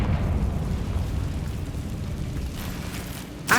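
A Confringo blasting spell goes off in Hogwarts Legacy, a loud low rumbling blast that roars steadily for several seconds, then a sharp burst right at the end.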